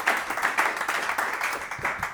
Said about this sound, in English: Just give an applause to them